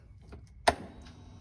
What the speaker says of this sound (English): That's your EFI system priming